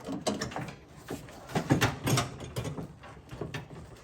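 Door handle mechanism on a 1988 Chevrolet K5 Blazer being worked during door disassembly, a run of close, sharp metallic clicks and rattling knocks in quick irregular succession, with no speech.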